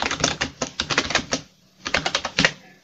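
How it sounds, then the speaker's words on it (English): Text is typed on a computer keyboard of a CP/M-era machine in two close, clattering bursts of rapid keystrokes separated by a short pause. "if I type some text"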